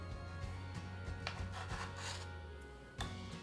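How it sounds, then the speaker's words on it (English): A spatula scrapes excess icing off a cake into a bowl, giving soft, quiet rubbing strokes with a few sharper scrapes over a low background hum. "now scrape all this excess icing off onto your bowl"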